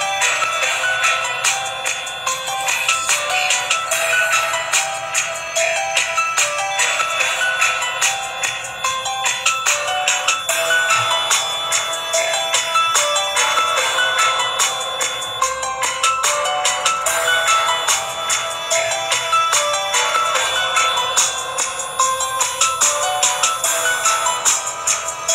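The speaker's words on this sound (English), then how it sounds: "If I continuously keep on moving my hand, then the alarm will continuously keep ringing." A PIR motion sensor alarm built on a breadboard rings continuously, a steady, bright, high-pitched electronic tone that persists without pause at an even loudness.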